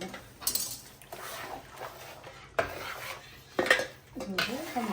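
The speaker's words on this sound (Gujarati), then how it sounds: "હું ચાણી લઈ લઈશ અને ચાણીને આમાં નાખી દઈશ" A metal strainer clanks and scrapes against a cooking pan while making adadiya pak, with several sharp metallic knocks and clinks spread across the moment, close and fairly loud, with no talking.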